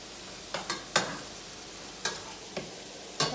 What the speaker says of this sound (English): I'm gonna stir your spices around a little.